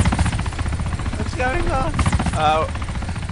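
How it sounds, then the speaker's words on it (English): A helicopter in the ArmA video game chops steadily close by, a loud rhythmic rotor thrum running throughout while people talk over it. "go jump to that helicopter"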